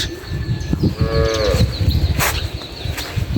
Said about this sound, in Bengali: বিশাল বড় বড় গরু